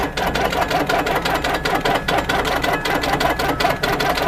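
A longarm quilting machine stitches a zigzag across a quilt loaded on point, its needle pounding in a fast, even mechanical rhythm, loud and close with a steady motor drone and no voices.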